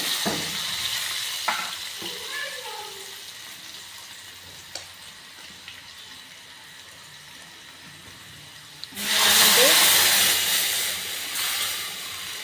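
Onion frying in a pan with cumin and mustard seeds, a soft sizzle with occasional stirring clinks, then a sudden loud burst of hissing sizzle near the end.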